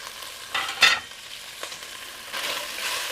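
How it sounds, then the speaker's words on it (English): Chopped onion fries in a pan, a soft sizzle broken by a few quick scraping strokes of a utensil stirring it, close and without talk. "Let that onion cook down a bit"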